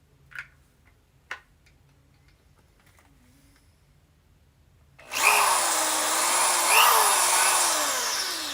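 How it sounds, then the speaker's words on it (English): A handheld power drill boring holes in a toy blaster build. A few sharp clicks come first, then the motor whirs in loudly and runs steadily, its pitch wavering as the bit cuts. "Let me just drill out these holes real quick."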